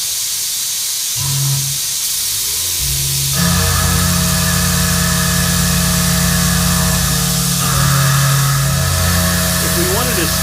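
A CNC milling machine spinning at 1700 RPM cuts a heat sink, giving a steady loud hiss and whine with sustained tonal hum that begins after a short quieter lead-in and continues to the end.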